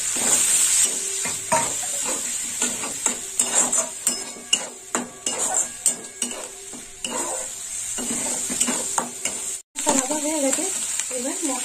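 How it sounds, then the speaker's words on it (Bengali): Onion paste sizzling in hot oil in a pan while being stirred, with frequent metal spoon scrapes and clinks against the pan over a continuous frying hiss, close and fairly loud. "এই পেঁয়াজটা একটু লাল লাল ভাজা হবে"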